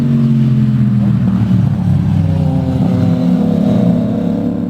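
Exhaust of a custom cafe racer motorcycle, with a loud, steady, throaty engine drone close by that holds level throughout without clear rev spikes.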